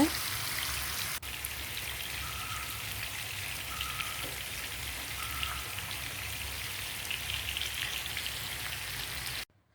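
Chicken frying with leftover masala in a wide pan over the flame, giving a steady close sizzle and crackle of spattering oil that holds at an even level the whole way, with no talking.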